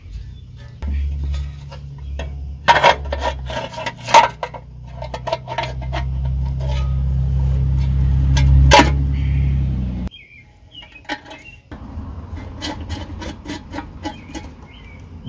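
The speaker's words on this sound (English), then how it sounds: "Then we'll set our valve cover back on." Metal valve cover set back onto a Ford 201 diesel engine during a valve adjustment, with scraping, clunking contacts and light rattles over a steady low hum, then quieter handling after a brief pause.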